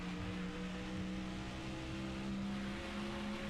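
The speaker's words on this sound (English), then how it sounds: "shut up outside. You stupid loud engine." A car engine drones steadily outside in NASCAR Thunder 2004, a continuous mid-level hum with a sustained low tone and no clear revving peaks, heard alone without talk.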